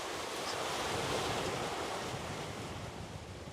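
Small, mild ocean waves wash around a sailboat adrift mid-ocean, a steady close hiss of surf mixed with gusty wind buffeting, no voices.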